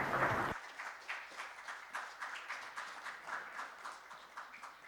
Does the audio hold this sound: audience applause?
yes